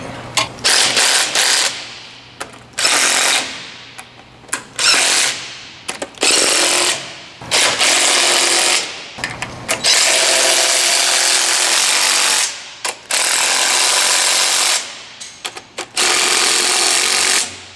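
Power tool bursts from tightening bolts on a tension idler, a series of loud rattling impact-driver runs of one to three seconds each, separated by brief pauses, with one longer sustained run midway.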